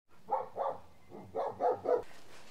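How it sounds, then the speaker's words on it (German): Dogs at a breeder's place among houses bark in two bursts: a pair of barks, a pause, then three more. They sound moderately distant and carry clearly over faint background noise. "Wie man am Hundegebell hört, kommen wir hier jetzt an ein paar Wohnhäusern vorbei."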